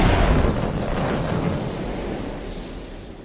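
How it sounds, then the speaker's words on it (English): A huge explosion bursts out at full force, a dense roaring blast with deep rumble that slowly decays over about three seconds, heard alone with no voices. "The sky lit up with the huge explosion."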